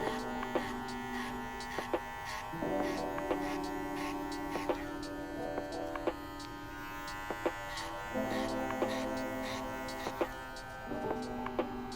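Hair clippers fitted with a number 2 guard buzz steadily through a low fade cut, a close, continuous electric hum with brief breaks and shifts in pitch as the blade moves, interrupted by small clicks.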